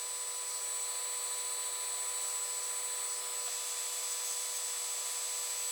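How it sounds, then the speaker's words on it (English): A power sander runs steadily throughout, a continuous high whine with a bright tonal hum as it reshapes a foam-like pom-pom for a DIY Santa hat, with no voices. "I will correct that now on the sander."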